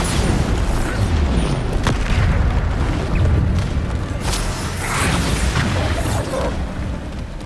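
A Bombarda spell explosion in the Hogwarts Legacy video game, a loud dense burst of booming rumble and crackling debris that persists throughout, close and heavy, without talk.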